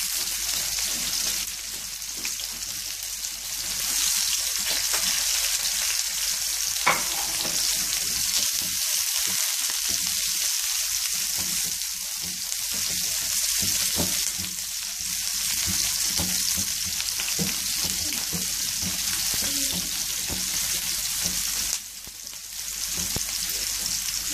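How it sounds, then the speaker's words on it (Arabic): Onions sautéing in a pan for chicken shawarma, a steady, dense sizzle with soft stirring scrapes running throughout, close and fairly loud with no talking. "وهبدا اشوح فيه. عاوزه البصل بتاعي كده يدبل، مش هحمره"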